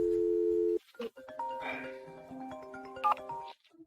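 A steady telephone dial tone hums for under a second. After a pause come layered electronic phone tones and beeps of varying pitch, moderately loud and close, with no talking over them.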